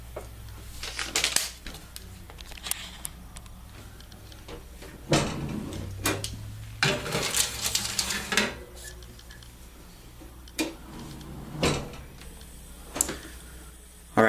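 Metal baking trays clatter and clank as a tray of cookies is slid into an oven preheated to 350 degrees, with scattered knocks, scrapes and a door thud spread over the stretch, close and fairly quiet, with no talking.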